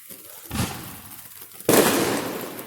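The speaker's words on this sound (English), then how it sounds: "Somebody spent a lot of money on fireworks." Fireworks bursting at a Fourth of July celebration, two sharp explosive bangs about a second apart, the second loud and close with a lingering crackling rumble.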